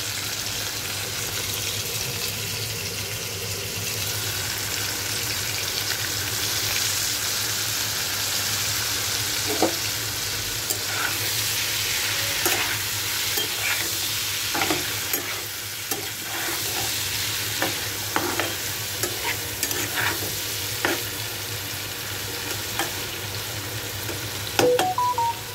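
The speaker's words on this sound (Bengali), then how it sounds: "পনিরগুলো ভেজে নেবো" Paneer cubes fry in a pan with a steady, even sizzle throughout, broken by scattered light clicks and scrapes of stirring, close and fairly loud.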